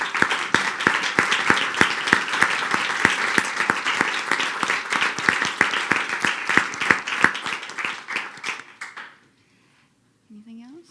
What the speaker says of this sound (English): please stand up and let's give you applause as well